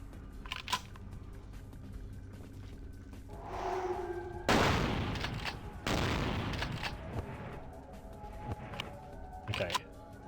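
Gunfire in Vampire: The Masquerade - Bloodlines, with a heavy burst of loud, dense shots around the middle and a few scattered sharper cracks before and after.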